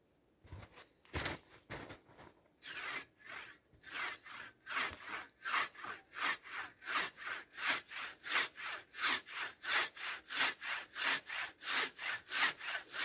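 A hand saw cuts through wood in steady back-and-forth strokes, a few uneven starts giving way to a fast, regular rasping rhythm, close and loud.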